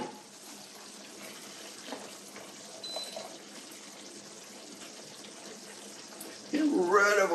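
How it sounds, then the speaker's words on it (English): Cooked pasta drained through a strainer into a sink, a steady broadband rush of pouring water running faint and continuous, growing louder toward the end as a voice begins speaking over it. "I'll just strain this off in here, taking care."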